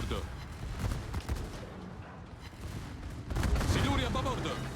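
The secondary guns on the Varese, a Tier 10 Italian cruiser in World of Warships, fire in a rapid, dense barrage of booming shots. A voice talks over the gunfire, which swells louder toward the end.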